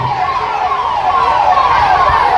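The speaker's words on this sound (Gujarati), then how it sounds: "આ સાયરન છે અમારું આ રીતે અમારું સાયરન વાગે છે" A loud wailing fire engine siren sweeping down in pitch over and over at a school fire safety demonstration, close and continuous with engine rumble beneath.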